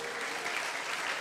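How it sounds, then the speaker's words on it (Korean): A brief, steady burst of crowd clapping at an evening worship service of a summer camp, moderately loud and even throughout. "이제 박수 쳐주세요."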